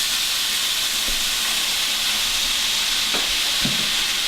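Beef sizzles steadily and loudly in a hot pan just after soy sauce is added for an Asian beef with mandarin oranges dish, with a continuous hiss and a few soft stirring clinks, no talking.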